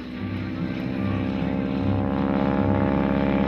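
A biplane's propeller engine drones loud and close with a steady, pulsing hum that builds slightly as power comes back during a wing-walking flight.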